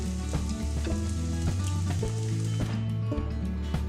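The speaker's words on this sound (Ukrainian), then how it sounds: "викладаю на пательню з олією" Finely chopped onions sizzling steadily in hot oil in a pan, a dense, continuous crackle close by with no voices.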